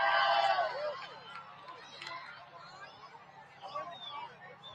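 Crowd of onlookers in Indianapolis during a total solar eclipse, a loud swell of cheering and shouting at first that settles into a steady murmur of chatter and scattered whoops.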